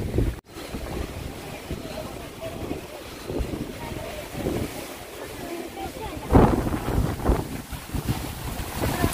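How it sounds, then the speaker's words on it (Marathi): Strong gusting wind buffets the microphone at Shivneri hill fort, a rough, uneven roar that swells and fades, with a louder gust burst partway through. "आपण शिवरायांच्या जन्मस्थळाच्या भेटीला चाललो आहोत आणि वारा तुफान सुटला आहे।"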